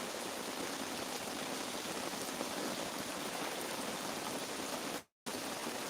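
Steady rain drums on an outdoor awning during a thunderstorm, a dense continuous patter with one brief dropout near the end and no talk.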